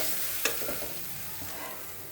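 Spice paste frying in a pan, a soft sizzle broken by a few scraping stirs near the start, quiet and close.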